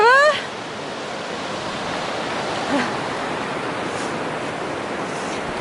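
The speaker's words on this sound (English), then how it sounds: "And there's the river." A river rushes through a mountain valley beneath a bridge on the Pacific Crest Trail, a constant broadband roar of flowing water heard near and steady, with a brief whistle-like sweep at the start.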